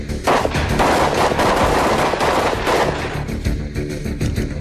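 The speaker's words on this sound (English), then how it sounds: "all have submachine guns like the AR-15 that can fire fully automatic or semi-automatic rounds" Sustained fully automatic submachine gun fire from SWAT team weapons, loud dense bursts of rapid shots overlapping into a continuous roar across the whole stretch.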